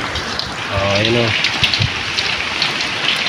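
Steady rain hisses loudly throughout, with a brief spoken word in Filipino near the start over the constant downpour.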